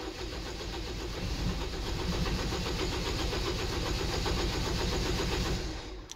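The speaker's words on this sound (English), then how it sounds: "Now if you crank the vehicle will not start." A vehicle with a camshaft sensor fault cranks without firing. The starter whirs in a loud, steady, rhythmic churn for about six seconds and never catches into an idle.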